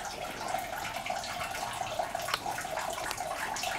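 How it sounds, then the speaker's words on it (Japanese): Hot spring water pours steadily into an outdoor open-air bath at a Hakone ryokan, a continuous splashing, bubbling flow heard close and fairly quiet with no talking. "温泉かけ流しです"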